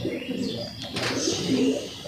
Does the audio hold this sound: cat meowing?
no